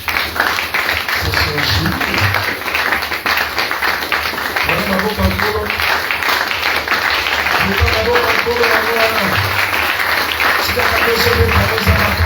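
A church congregation applauding and cheering to acclaim Jesus, sustained crowd clapping that fills the whole stretch, with voices calling out over it.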